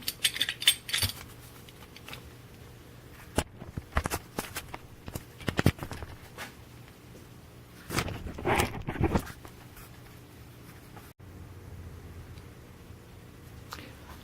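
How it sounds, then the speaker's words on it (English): Rusty ball bearings rattle and clatter inside a Porsche 928 CV joint as it is shaken, in irregular bursts of metallic knocking and jingling up close, with quieter handling noises between. "I just rattle it around until it all comes out"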